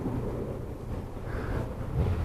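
Steady low rumbling wind buffeting a microphone while riding a Yamaha Niken three-wheeled motorcycle, broadband and continuous throughout with a slight gust near the end.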